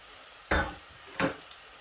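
Two chopped onions going into a hot pan, two short bursts of sizzling about a second apart, fairly quiet and close.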